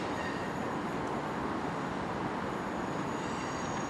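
A Class 321 electric multiple unit, a terminating service from London Liverpool Street, rumbles steadily into Ipswich station on the Great Eastern Main Line, with continuous close wheel and rail noise and faint squeal, no talk.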